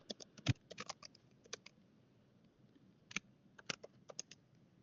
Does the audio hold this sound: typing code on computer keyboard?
yes